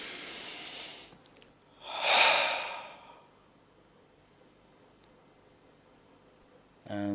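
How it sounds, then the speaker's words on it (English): A single deep breath drawn in and let out during a short breathing exercise, a soft airy rush swelling for about a second, close and clear against near silence. "So take one more breath."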